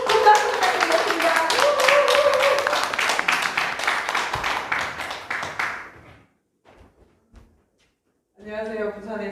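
An audience claps steadily for several seconds, dense and lively, then the applause thins and stops; a voice begins speaking afterward.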